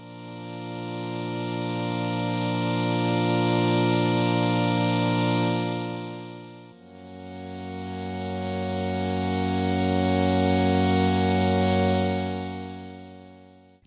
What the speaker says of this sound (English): I'm using the digital synthesizer engine inside the OP-1, and the sound sounds like this.